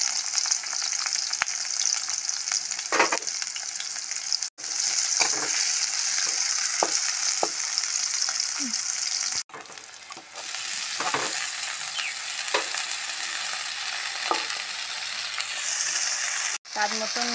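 Chopped onion fries in a pan with a loud, continuous crackling sizzle, broken by occasional stirring scrapes and a couple of brief drops in intensity, with no talking.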